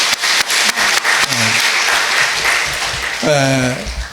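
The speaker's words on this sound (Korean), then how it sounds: "우리 다시 한번 박수 보내주시기 바랍니다." Audience applause at a Korean church graduation ceremony for eleven graduates, a loud dense wash of clapping throughout, with a voice speaking over it partway and near the end.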